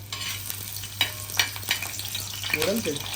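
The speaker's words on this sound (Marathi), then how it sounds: "तेल तापलंय तर मी आता तेलामध्ये लसूण टाकून देते" Garlic dropped into hot oil in a home kitchen sizzles and crackles close by, with a few stirring scrapes and small clinks over a steady background hum.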